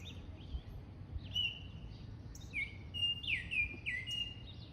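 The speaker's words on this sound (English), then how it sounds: "He's a red-legged Siriema, so one of the birds that we have here." A red-legged seriema at Southwick's Zoo gives a series of high, sharp, repeated calls over a low background murmur, with short bursts coming closer together toward the end.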